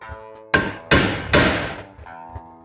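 Three sharp hammer blows drive a chisel against an axle nut to stake it into the axle notch during a rear wheel bearing replacement on a Subaru BRZ/Toyota 86/Scion FR-S, each strike ringing metallically, followed by a lighter tap.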